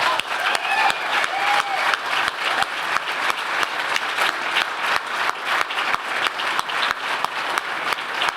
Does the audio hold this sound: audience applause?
yes